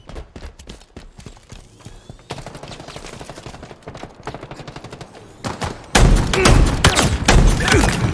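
Rapid gunfire rattles through Halo Infinite combat, with bursts of sharp shots that grow heavier and louder toward the end, layered with overlapping blasts and no voices.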